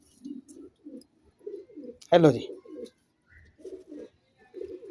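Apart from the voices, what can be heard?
pigeon cooing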